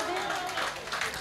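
An audience at an All India Mushaira claps in a steady, dense wash of applause that fills the whole moment at an even level, with a voice faintly mixed in.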